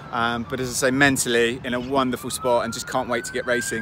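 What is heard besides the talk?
emergency vehicle sirens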